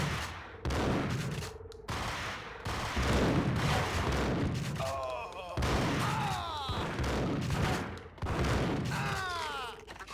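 Rapid bursts of gunfire from the Max Payne video game, loud and repeated across the whole stretch with brief gaps, mixed with game sounds and a voice talking at points.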